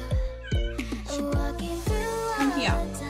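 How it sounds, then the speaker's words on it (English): A house cat meows repeatedly and close by, with several short, rising and falling calls in quick succession, a few longer and more drawn out, over a low background hum. "Oh, my cat's here."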